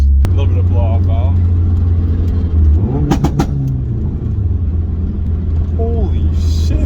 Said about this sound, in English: A little bit of blow off valve.